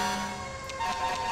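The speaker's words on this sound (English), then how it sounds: "So let's go ahead and put on that Q siren, guys." A Federal Q siren mounted on a GMC Topkick C450 ambulance in GTA 5 holds a loud, steady mechanical wail throughout, with no voices over it.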